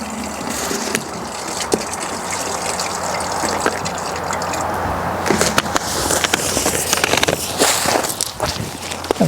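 Gray-tank water from an RV drains through a sewer hose, a steady close gush with scuffs and knocks from the hose being handled.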